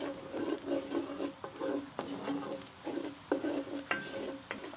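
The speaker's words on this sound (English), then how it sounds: "Go ahead and stir that in." Barbecue shrimp sauce in a pan is stirred over heat outdoors on a grill, steady sizzling with repeated scraping strokes of the spoon, close and fairly loud, with no talking.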